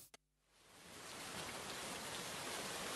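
Steady rain falls and hisses across a surface after a brief tap at the start, building to an even, loud wash of dense drops with no voices.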